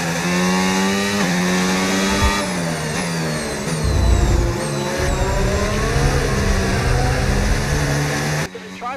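A racing video game car engine revving hard and whining steadily upward through gears, with tire squeals and shifting pitch sweeps, while someone talks over it.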